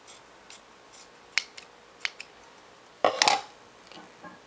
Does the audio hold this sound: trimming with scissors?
yes